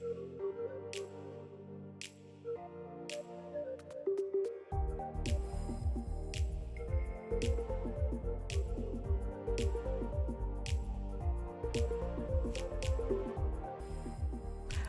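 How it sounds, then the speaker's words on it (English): Thick, pasty phoulorie batter with green onions being stirred, soft wet squishing and slapping in a steady rhythm that grows louder and denser after the first few seconds, with light clicks of the utensil. "Once it starts to get pasty, I'm adding in my green onions."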